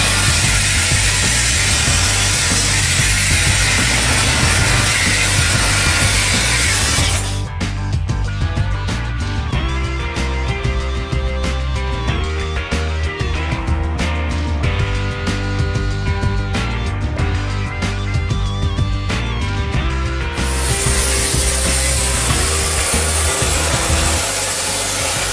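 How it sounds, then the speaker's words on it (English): A loud, steady hiss of pressurized water spray inside a restaurant exhaust fan housing roars continuously, with a grinding mechanical layer through the middle stretch before the hiss returns. "I go up top and I spray out the whole fan housing."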